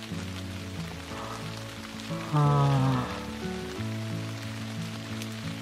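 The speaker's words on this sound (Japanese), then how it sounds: "またね降ってきましたよ。降ったりやんだり、ほんと大変やわ。" Rain falls at Okubiwako campsite by Lake Biwa as a steady, fine patter with a louder surge partway through, under a low tonal background hum, with one person sighing briefly.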